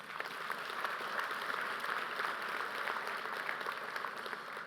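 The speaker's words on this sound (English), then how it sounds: "just a round of applause for them" Applause from the audience at the GEOINT 2015 USGIF awards ceremony: many hands clapping in a steady, fairly soft and distant wash that lasts throughout with no talking over it.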